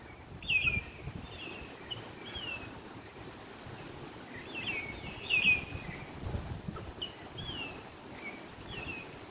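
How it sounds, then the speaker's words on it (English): Birdsong along a bush hike at Belair National Park, with scattered thin high chirps and whistles repeating at intervals, fairly faint and distant over a soft outdoor background of wind and rustling. "Some beautiful bird sounds."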